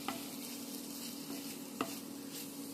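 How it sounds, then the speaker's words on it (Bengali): Quiet stirring of radish pickle with roasted coriander powder and spices in a pan, a soft sizzle underneath with a few sharp clicks of a spoon against the pan. "ধনে ভাজা গুঁড়ো 1 টেবিল স্পুন দিয়ে নাড়াচাড়া করে নেব, খুব সুন্দর করে মিশিয়ে নেব।"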